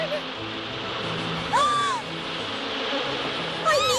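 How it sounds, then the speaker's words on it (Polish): A steady, agitated buzzing of angry bees fills the air, with a few higher swooping tones rising and falling over the drone. "Wściekłe pszczoły, uciekaj."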